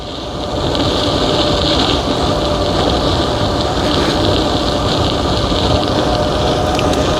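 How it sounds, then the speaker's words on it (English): Varstrom dual geared hub motor e-bike riding at full throttle on the rear wheel at about 27 to 28 into a light breeze, giving a steady broadband drone with wind rush and a faint high motor whine, loud and continuous. "right now I'm just cruising with the back wheel. Full throttle, I'm cruising like 27, 28"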